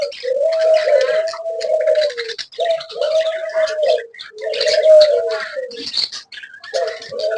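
Doves coo repeatedly, close by on a bird farm, in a series of low, rolling calls separated by brief pauses.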